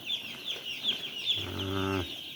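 Many day-old broiler chicks on a poultry farm peep in high, rapid chirps close by, and a low mechanical drone joins briefly in the middle.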